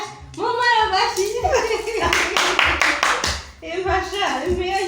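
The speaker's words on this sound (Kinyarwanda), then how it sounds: "Mumara amashyi." While a game is played at home, hands clap in a quick burst of sharp claps. Lively voices, including a child's, talk and call out before and after.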